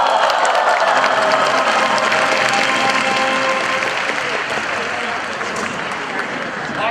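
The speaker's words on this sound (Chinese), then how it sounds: "现在打开你的手帕，来迎接大家的掌声。" An audience at a Chinese New Year gala applauds a magic trick with a dense, sustained wave of clapping that fades slightly toward the end, with crowd voices mixed in.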